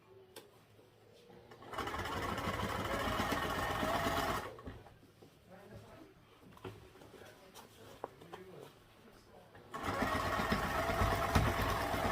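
A sewing machine top-stitching a garment seam pressed toward a side panel runs in two steady, whirring bursts of a few seconds each, separated by a quieter pause with faint handling sounds, close up and with no speech.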